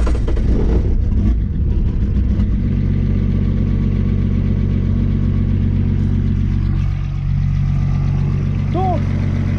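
Ford Sierra six-cylinder engine running after starting, a loud, steady low rumble that holds throughout, with a voice talking over it.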